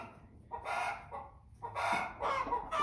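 Hens of the American Bresse breed clucking repeatedly in a few loud bursts, close by, with short quiet gaps between calls.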